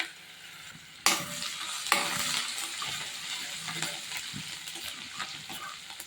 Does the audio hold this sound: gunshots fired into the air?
no